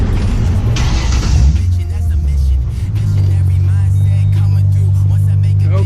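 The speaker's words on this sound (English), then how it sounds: "Car was coming up on my butt." A car driving up close behind a Mustang on the road, a steady low engine drone that rises and settles as it follows, near and fairly loud, with brief talking early on.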